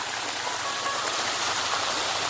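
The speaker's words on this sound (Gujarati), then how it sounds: "એટલી સ્પીડમાં પાણી નીકળે છે" Hot spring water gushes out of the ground at a natural spring in Vansda with no motor, a loud, constant rushing hiss that stays steady and close throughout.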